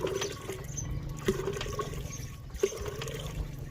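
Water gushes and splashes from a hand pump in Cholistan, pouring continuously with a few louder surges, heard fairly faintly outdoors.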